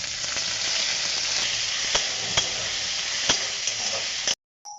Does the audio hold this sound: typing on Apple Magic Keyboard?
no